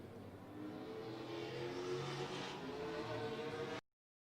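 Late model race cars circling Madera Speedway in a club race, a steady distant engine roar that swells slightly mid-way and then cuts off abruptly at the end.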